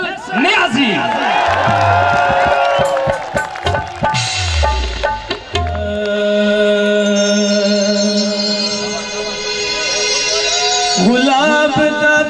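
A crowd at a stage drama event cheers, whoops and shouts loudly as a performer is introduced, the roar giving way to sustained music and voices over the hubbub.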